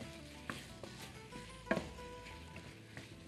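Meat and onion fry in a pot with garlic, a steady soft sizzle running throughout while a utensil stirs, giving several light scraping knocks and one sharper clack near the middle, close and unaccompanied by talk.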